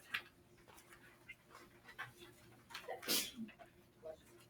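A dog sneezes once, a short sharp burst standing out over quiet background noise, with soft panting and faint snuffling around it.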